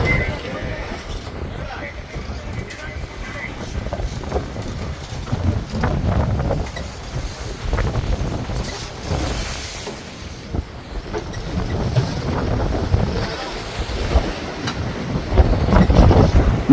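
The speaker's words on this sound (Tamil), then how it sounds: "காற்றும் கடலோட அலையுமே ரொம்ப பயங்கரமா இருக்கிறதுனால போட் வந்து மெதுவா தாங்க நம்ம பக்கத்துல வந்துட்டு இருக்கு" Strong storm wind buffets the microphone over a rushing, roaring deep sea, with a low boat engine rumbling throughout at close range.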